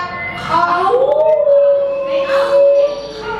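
A child at an Indonesian kindergarten performance imitates a lion's roar with a long, sustained, wavering vocal howl, loud and close, rising at the start and holding steady before trailing off.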